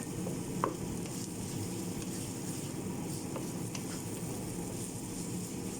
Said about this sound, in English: So we're just going to fry this off.